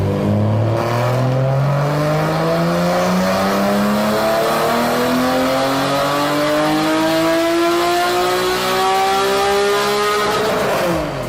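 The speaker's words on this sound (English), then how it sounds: "this dyno clip of the Build Journal car with ARH headers also sounds pretty close too" A BMW M3 GTR build car fitted with ARH headers revs hard on a dyno, one long loud sweep with the engine note rising steadily in pitch for about ten seconds before cutting off.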